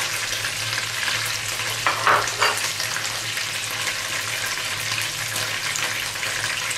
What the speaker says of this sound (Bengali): এবারে তেলটার মধ্যে রসুন বাটাটা দিয়ে দেবো